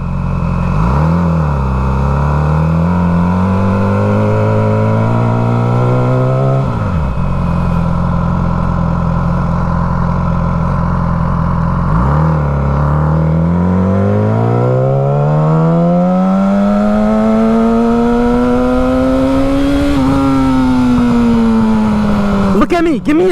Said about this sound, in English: my bike is so loud